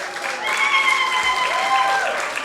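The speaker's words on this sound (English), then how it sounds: "requesting you to give my deputy, Shamima, a big round of applause." Steady, sustained applause from a conference audience during a speech on women leaders in media and government, even and fairly loud, with a faint tone sounding over it.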